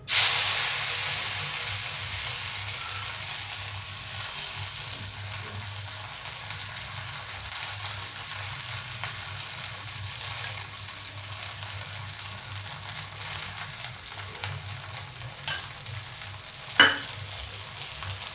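Sabudana thalipeeth roasts on a hot pan with a faint, steady sizzling hiss that runs the whole time, plus a brief clatter near the end.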